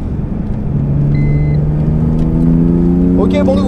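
A car powered by a BMW S54 engine drones loudly on a track, its note rising steadily as it revs higher over a few seconds, with a voice briefly audible under it.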